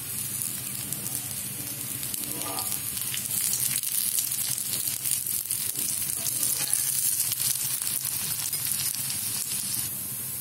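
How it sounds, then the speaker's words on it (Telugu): A sweet ragi dosa roasting in ghee on a pan, giving off a steady, even sizzle that grows slightly louder and stays continuous throughout, with a brief scrape near the start and no voices. "మనకి ఒక వైపు కాలిన తర్వాత ఇలా నెమ్మదిగా రెండో వైపు తిప్పుకుంటూ మళ్ళీ మరి కాస్త నెయ్యి వేసుకుంటూ కాల్చుకుందాం"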